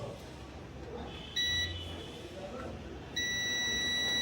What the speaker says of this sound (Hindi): बीप कर रहा है, फ्यूज बीप कर रहा है